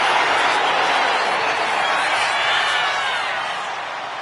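A wrestling arena crowd cheers for Nia Jax, a dense wash of roaring voices and whoops that holds steady and then eases slightly toward the end, with no clear talk on top.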